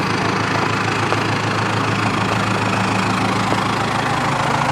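A Cummins 4BT diesel engine in a Ford truck idles outdoors, a loud, steady low rumble with an even knocking clatter throughout and no talking.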